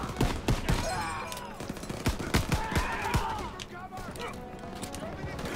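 Machine guns fire in a Call of Duty: WWII battle, sharp bursts and single shots cracking close and loud while soldiers shout over the gunfire.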